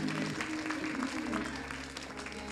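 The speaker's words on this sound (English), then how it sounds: "let's give a hand clap of praise for her" Congregation applauding in a church during a Sunday service, a continuous dense patter of hand claps with voices and a low hum beneath, fading slightly toward the end.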